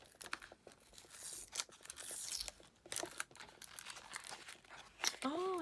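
Plastic packaging of a crochet subscription box being torn and crinkled open by hand, a close, fiddly series of crackling rips and crumples with brief pauses.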